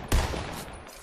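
One sharp sniper rifle shot cracks out in a Fortnite Team Rumble match, a loud sudden report with a short fading tail and nothing else following.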